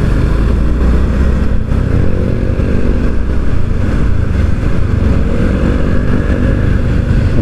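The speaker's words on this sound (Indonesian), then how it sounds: "ada motor menyeberang." A motorcycle crosses a road on an urban Bandung street between Cicaheum and Ujung Berung, its engine droning steadily among traffic noise, fairly loud and continuous without speech.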